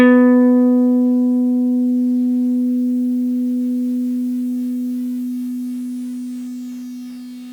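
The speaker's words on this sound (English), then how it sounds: "if you bit crush something, it'll start to get messed up right as it gets quiet" A single sustained synth note fading slowly over several seconds, bit-crushed so its tone turns grainy and buzzy as it gets quieter.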